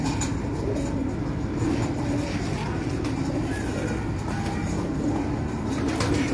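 Lal Pari (red fairy) teddy pigeons at a breeder's loft in Gujranwala, cooing softly and continuously within a dense, noisy background.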